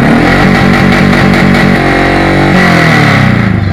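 A motorbike engine strains to start, with loud, rapid choppy sputtering that catches into a rough running drone, close and steady.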